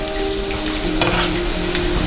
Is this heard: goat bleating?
no